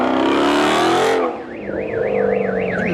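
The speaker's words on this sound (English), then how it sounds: "He made the alarm go off." A car alarm wails with a rising and falling electronic siren at a car meet. It sounds loud and close, and it follows a heavy roaring engine that cuts out abruptly.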